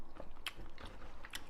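Quiet chewing while tasting cooked meat in a home kitchen during potato gratin preparation, a few soft, moist bites in a short close burst with no one talking.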